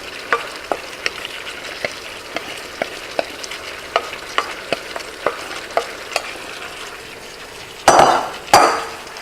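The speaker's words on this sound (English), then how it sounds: "going to stir it all up in this nice pan" Shrimp, scallops, asparagus and snow peas stir-fried in a pan: a steady bed of soft sizzling with a regular series of sharp utensil clicks and scrapes against the pan, ending in two louder scraping bursts.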